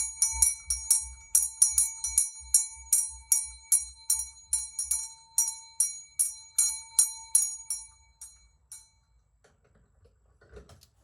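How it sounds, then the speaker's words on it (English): Small hand bell struck repeatedly in a quick, steady rhythm of bright ringing tones during a tarot reading ritual, about two dozen strikes that slow and fade into quiet. "let's call in our ancestors and just a little bit of the bell."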